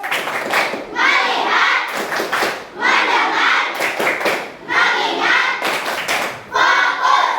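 A school class claps in rhythm on a teacher's call-and-response cues, with bursts of sharp group hand claps separated by brief gaps, close and lively, with children's voices mixed in.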